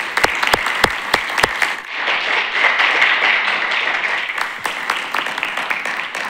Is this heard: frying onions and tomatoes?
no